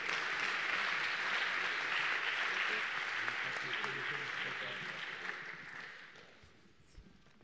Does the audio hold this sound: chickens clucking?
no